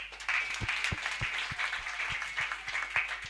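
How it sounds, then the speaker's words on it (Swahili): Rhythmic hand clapping in a steady beat, several people clapping together at a church deliverance service, with a faint voice or singing behind it. "Simpigie Yesu makofi."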